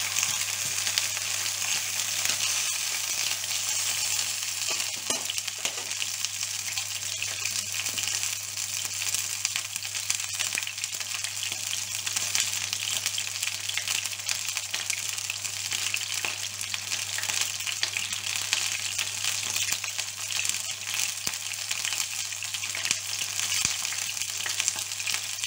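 Chicken pieces for a chicken and vegetable tagine fry in a pan with a steady, close, continuous sizzle, with occasional soft scrapes and knocks as the meat is turned, and no voices.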